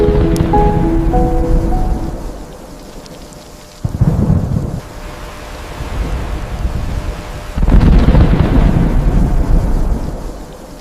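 Heavy rain pours down steadily while deep thunder rumbles roll in twice, loud and close, over a constant hiss of falling water.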